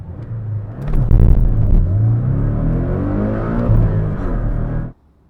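A 2018 Porsche 718 Cayman GTS engine revs hard under acceleration, a loud steady roar climbing from about one second and holding for nearly four seconds before cutting off sharply.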